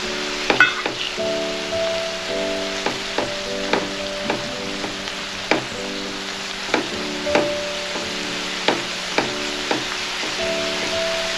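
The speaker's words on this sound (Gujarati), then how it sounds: "હવે એમાં આપણે આદુ લસણ અને મરચાંની પેસ્ટ સાંતળી લઈએ" Ginger, garlic and chili paste sautéing with half-cooked onion in a pan for Gujarati baingan bharta, a steady soft sizzle broken by regular sharp clicks of a spoon stirring against the pan.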